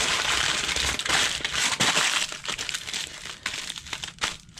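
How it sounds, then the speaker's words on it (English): Tinfoil is crumpled and crinkled by hand around a hobo pouch of food, a close, continuous crackling and rustling with irregular sharper crunches throughout. "I'm going to crumple that right there like that"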